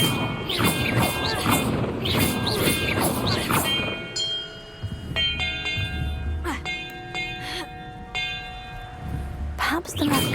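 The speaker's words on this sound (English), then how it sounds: "the order I'm supposed to ring the bells in" Bells rung in a puzzle in the video game Hogwarts Legacy: clear sustained bell tones start around the middle and layer into several overlapping ringing strikes, following a stretch of louder game noise and voices.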